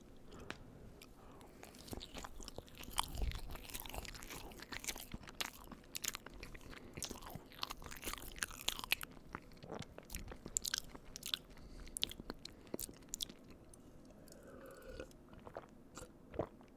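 Someone chews chocolate cake from Walmart up close, soft moist bites and squishy chewing with irregular faint crunches and smacks, quiet and intimate with no talk.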